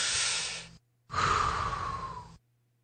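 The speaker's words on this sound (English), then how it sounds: "I'm practicing deep breathing" Two deep breaths taken close to the microphone, a long inhale then a slower sighing exhale after a short pause, loud and breathy against silence.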